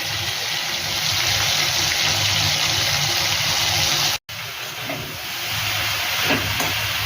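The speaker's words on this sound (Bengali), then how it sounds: "চিংড়ি মাছ ভাজছি" Prawns frying in a hot pan in a home kitchen give a steady, loud, close sizzling hiss that runs continuously, cut by one very brief dropout.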